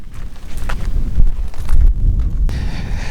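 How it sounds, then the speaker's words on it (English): Gusty wind sweeps across an open field near a waterfall in the Moscow region, a rumbling buffet that rises and falls over a few seconds with no voices. "it's very windy here"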